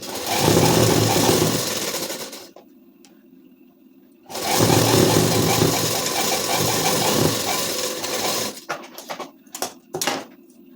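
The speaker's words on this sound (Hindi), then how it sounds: "ऐसे अंदाज के चला देंगे, आधा इंच में थोड़ा सा कम पे सिलाई चला देंगे।" An electric sewing machine stitches a ladies suit seam in two long, loud whirring runs, with a quiet pause between them and short stop-start bursts at the end.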